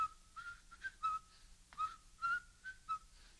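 A person whistles in imitation of a Mississippi steamboat whistle, a sequence of clear sustained tones rising and falling in short bursts, with a quick pitch dip midway, heard alone against faint background.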